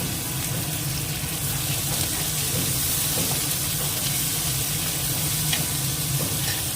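Chopped onion with a pinch of salt frying in a pan, a loud continuous sizzle with faint stirring scrapes and clicks, no talking.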